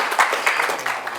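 An audience at a members' meeting bursts into a brief, dense patter of clapping mixed with cheering, lasting only about a second.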